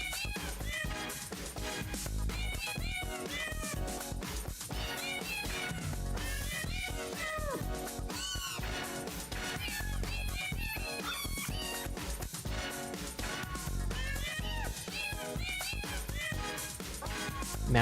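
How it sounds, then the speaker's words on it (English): Cats meow continuously to a rhythmic music track in the late-90s PlayStation rhythm game Jingle Cats, with dense repeated meows layered over the loud beat throughout. "Meow, meow, meow, meow, meow, meow."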